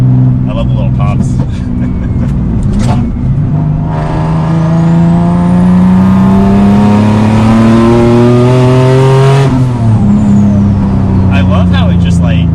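Single-turbo Nissan 370Z engine pulling hard under acceleration, its loud droning tone climbing steadily in pitch through the gears, with scattered exhaust crackles and pops before and after the pull, heard from inside the car.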